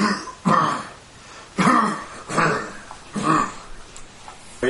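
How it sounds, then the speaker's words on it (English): A man at an altar coughs and clears his throat in several rough, separate bursts, close and fairly loud. "The man at the altar, he starts coughing."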